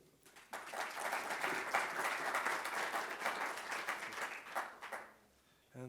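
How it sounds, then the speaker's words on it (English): Audience applause at a scientific plenary session welcoming the next speaker: a sustained wash of clapping that starts sharply, holds steady for about four seconds, then tapers off and stops, moderately distant and fairly quiet. "let's welcome the next speaker with applause"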